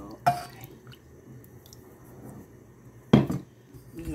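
Two separated clanks of a utensil against a pot, one early and one near the end, as sweet potatoes are stirred, with quiet kitchen background between them.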